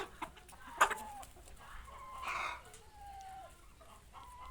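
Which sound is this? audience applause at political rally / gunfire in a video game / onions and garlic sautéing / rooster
rooster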